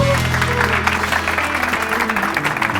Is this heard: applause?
yes